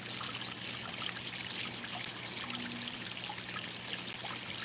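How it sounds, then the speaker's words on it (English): Water trickles and pours steadily into a goldfish pond, a soft continuous wash of flowing liquid, faint and even, with no voices over it. "this water's a little low. If you remember last year, I constantly struggled with this pond because as you can see, the water flow is so high"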